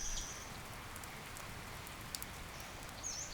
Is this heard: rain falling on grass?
yes